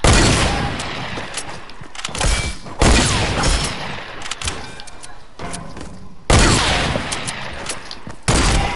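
Video game gunfire, loud close bursts of rapid shots and heavy thumping impacts arriving in several sharp volleys with brief gaps between them.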